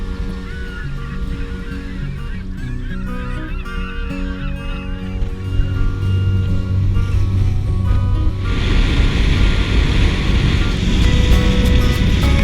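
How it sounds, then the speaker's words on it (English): A ferry crossing Cook Strait towards Picton, with a steady engine rumble and rushing water; near the end, loud honking tones sound over the noise and the wash grows stronger. "it was onto the ferry to cross Cook Strait towards Picton"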